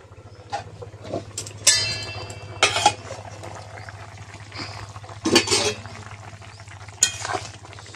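Pumpkin and Malabar spinach curry cooks in a pan with a low continuous sizzle, punctuated by several sharp clattering scrapes of a spoon stirring against the metal.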